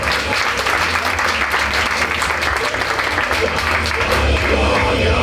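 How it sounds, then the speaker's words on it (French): Loud, sustained studio audience applause on a French television game show, dense clapping filling the whole stretch at close range with no one speaking over it. "Oui, vous pouvez l'applaudir parce qu'il va falloir être fort."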